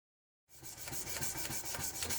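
After a brief silence, steady rhythmic rasping of sandpaper rubbed back and forth over the edge of a forged steel axe made from a truck leaf spring, close and quiet, with regular strokes.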